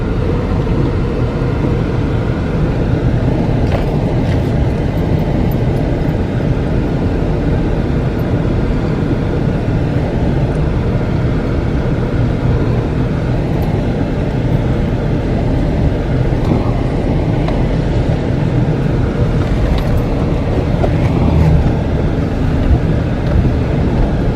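An off-road vehicle crawls slowly down a rock step section at Auger Springs, its engine giving a steady, loud, continuous low rumble with tyre and chassis noise throughout and no talking.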